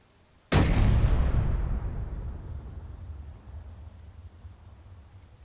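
A turret in a Mammoth Tank build game fires a single loud, booming blast that decays into a long rumbling tail lasting several seconds, with no other sound over it.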